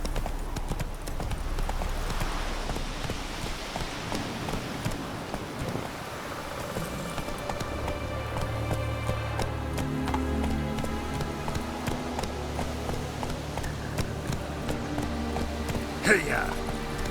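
Horse hooves clip-clop in a steady running rhythm for the whole stretch, close and fairly loud, while a rider's voice urges the horse on over it.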